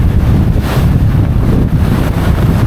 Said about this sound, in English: Getting very windy.